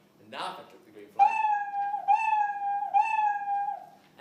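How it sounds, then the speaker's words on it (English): A cartoon cat meow from a Scratch program plays three times in a row, each a clear, drawn-out synthetic mew at steady loudness, preceded by a brief muffled voice or noise. "I want it to meow 3 times"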